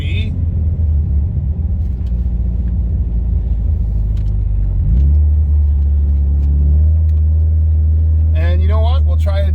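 A Subaru car slides in winter snow, handbrake pulled, its engine a heavy close rumble that shifts pitch midway as it revs, with a voice talking over it near the end.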